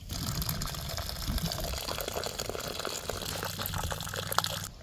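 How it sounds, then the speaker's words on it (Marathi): Starch water drains from partly cooked rice being readied for chicken biryani, a steady rushing, splashing pour that runs unbroken and fairly close for the whole stretch. "आता हे भाताचं पाणी कसं आपण येळून काढलंय"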